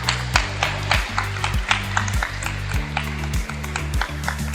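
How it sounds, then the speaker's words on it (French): Crowd clapping for a committee president at a regional basketball semi-final in a gym, steady clapping heard over loud, pulsing arena music with a heavy repeating beat. "Monsieur Bettiol, on peut applaudir s'il vous plaît."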